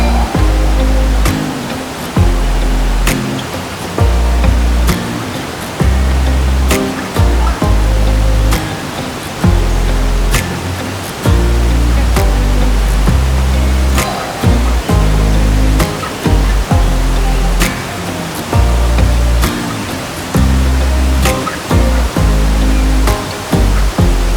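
Steady, loud broadband rush of a waterfall in a small enclosed natural enclave, continuous, with low rumbling pulses underneath and no voices.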